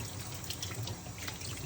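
Food being rinsed under a running kitchen tap for a Guyanese chicken and squash curry, a steady close splashing stream of water filling the sink with no talk.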